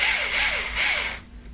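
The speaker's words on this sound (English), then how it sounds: "Just grab my drill here" Power drill backing M4 screws out of a cage, the motor whining in short rising bursts that stop abruptly near the end, close and loud with no talk.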